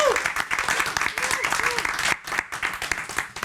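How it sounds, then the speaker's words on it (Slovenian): Applause from a studio audience on a Slovenian television talk show as a guest is called on, dense steady clapping filling the room with crowd noise and a voice talking over it, dipping briefly before continuing. "Prosim za aplavz."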